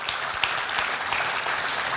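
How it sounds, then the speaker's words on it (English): Audience clapping at a fundraising dinner: dense, steady applause from a crowd, filling the room evenly with a few sharper individual claps standing out, no voices on top. "I want you to give the biggest clap ever"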